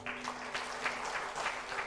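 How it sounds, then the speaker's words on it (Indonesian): Brief, fairly faint applause from a church congregation clapping in praise to God, even and continuous for a moment without speech. "mari kita beri tepuk tangan buat Tuhan kita"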